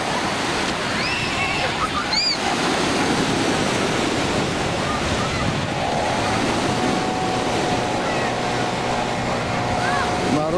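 Sea surf on a crowded Crimean beach makes a dense, steady wash, with voices and beach chatter mixed into the roar.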